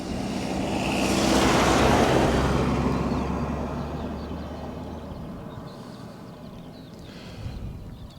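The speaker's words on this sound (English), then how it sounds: "some bellend in a white van always come along when I'm doing a piece to camera" A white van drives past on a road, its engine and tyre roar swelling loudly to a peak, then fading gradually into the distance, with no voices.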